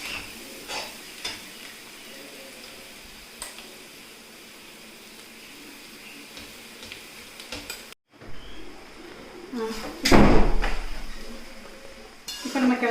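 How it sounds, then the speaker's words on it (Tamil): Rice being stirred into chicken fried rice in a pan over a high gas flame, with scraping and clinking of a utensil against the pan, quiet at first and then louder, busier stirring near the end. "இப்போ நம்ம சாதத்தை போட்டு கிளற வேண்டியதுதான்."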